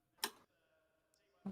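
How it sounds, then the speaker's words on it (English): Two sharp plastic clicks from a sim racing wheel's paddle shifters right beside the microphone, one early and one at the end, with near-silence between. "my paddle shifters are right by the microphone, so enjoy that little ASMR throughout the race"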